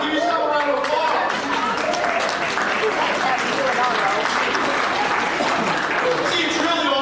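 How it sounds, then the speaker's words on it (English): A seated audience at a motivational talk claps in a sustained, even roar of applause, while a voice speaks over it throughout. "give yourself a round of applause"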